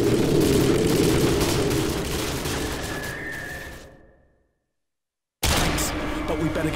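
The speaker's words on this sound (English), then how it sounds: "Those explosions are gonna attract a lot of attention." Loud, dense rumble of explosions and gunfire in Call of Duty: Modern Warfare 2, fading out into silence, then abruptly cutting back in at full intensity.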